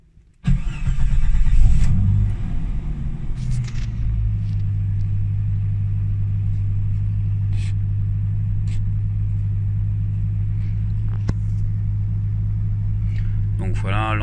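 A car engine cranks and catches, then settles into a steady low idle that carries on evenly, with a person talking over the running motor; the car is fitted with a wideband lambda sensor.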